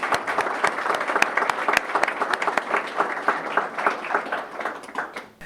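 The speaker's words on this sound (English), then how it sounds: "I think we should give him a round of applause" A modest audience at a Manx awards event claps for an absent dancer with a scattered, uneven round of applause that rises and dips as individual claps stand out.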